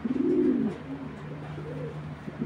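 Racing pigeons coo close by, one low rolling coo followed by softer, quieter coos, with no voices.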